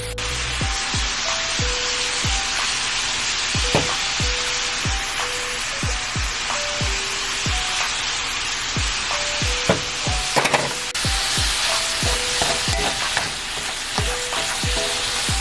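Meat browns with onion and garlic powder on a hot surface for a chopped cheese sandwich, giving a loud continuous sizzle with a steady run of close metal spatula taps and scrapes throughout.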